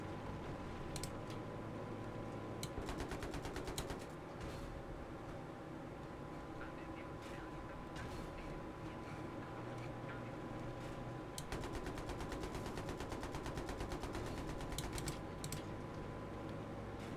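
Rapid bursts of gunfire from a PC session of Battlefield 3, dense repeated shots in several long volleys over a constant bed of game noise, loud and close with no talk.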